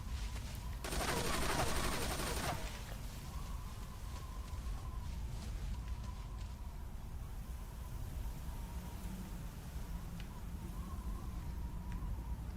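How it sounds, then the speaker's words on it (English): Gunfire in the video game Metal Gear Solid 3 Snake Eater, with a woman shooting at the player: a dense burst of rapid shots lasting about two seconds, then sparse faint pops over steady game ambience. "she's shooting at me"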